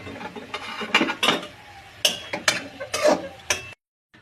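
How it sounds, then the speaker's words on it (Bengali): A spoon clatters and scrapes in a pan as the lid is lifted and spinach with bori is stirred, several sharp metallic knocks in irregular bursts, close, ending in silence. "মাঝে একটু ঢাকনাটা তুলে সবজিটা একটু নেড়ে দেবো।"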